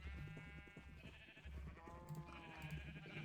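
Sheep in a blocky Minecraft-style farming game bleat repeatedly in overlapping, wavering calls, several animals close by and fairly loud, with no talking.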